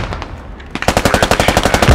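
Enemy automatic gunfire in the video game Squad, a rapid burst of loud, close shots in a tight rhythm that begins after a quiet lead-in and continues to the end.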